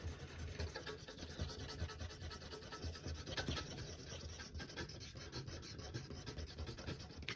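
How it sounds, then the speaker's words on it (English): An eraser rubs over charcoal on paper in a lighthouse sketch, giving soft, continuous scratchy friction in short repeated strokes, close and fairly quiet, with no voices. "You can go over with your eraser and remove more."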